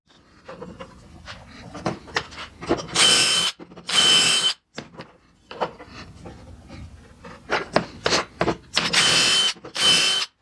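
A power drill bores pocket holes in wooden diamond-shaped pieces for an eight-pointed star, with several loud, close bursts of whirring, each about a second long, separated by clicks, handling knocks and brief pauses.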